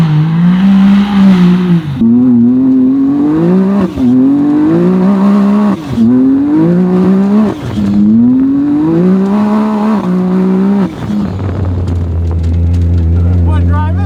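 A CFMOTO Z10 side-by-side fitted with a HELLRAISER blow-off valve kit and injectors revs hard and loud up close, its engine note rising and falling in repeated pulls before dropping to a low idle near the end.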